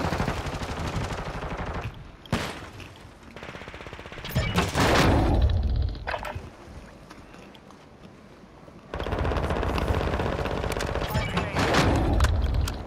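Gunfire from Call of Duty: Modern Warfare II, with loud bursts and sharp cracks that come and go in uneven waves, and a sustained heavy stretch toward the end.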